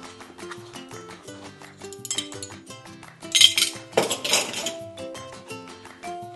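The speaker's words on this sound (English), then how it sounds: "Some measuring spoons. Can never have too many of these." Metal measuring spoons clink and rattle against each other as they come out of an almond milk maker's box, with a few sharp bright jingles near the middle, heard alone and close up.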